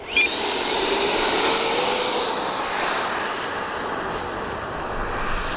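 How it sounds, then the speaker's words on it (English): An FMS Integral 80mm electric ducted fan RC jet revs up, its whine sweeping steadily upward in pitch over a loud, continuous rushing roar that stays close and holds through the clip. "I heard the engine rev up"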